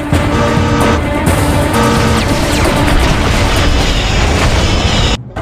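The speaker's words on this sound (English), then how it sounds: "The station is exploding!" A space station explodes in the video game Freelancer with a loud, sustained roaring blast and crashing rumble, dense and unbroken before cutting off abruptly near the end.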